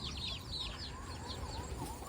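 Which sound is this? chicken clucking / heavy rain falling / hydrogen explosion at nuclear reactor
chicken clucking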